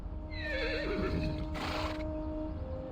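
A horse whinnies in Reverse 1999, a loud wavering neigh in the first half followed by a burst of breathy snorting, all over a constant low background drone and hum.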